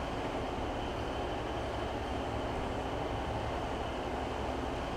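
A two-coach Class 156 diesel multiple unit train running, with a steady, loud rumble of engine and wheels on rail throughout, no voices.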